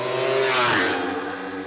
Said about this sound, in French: le premier passage de la moto est observé sous toutes ses coutures.